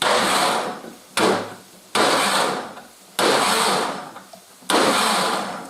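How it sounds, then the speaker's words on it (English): A kitchen blender whizzes two tins of tomatoes in four loud bursts of roughly a second each, with short pauses between pulses and no talking. "So I've got my tomatoes, my 2 tins of tomatoes in the blender."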